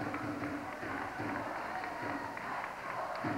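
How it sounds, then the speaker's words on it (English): Vocal crowd packed into a jam-full gym at a 1993 Corner Brook high school basketball city championship game at Herdman, a steady roar of chatter and shouts throughout with faint bursts of cheering. "the crowd's quite vocal here again this evening"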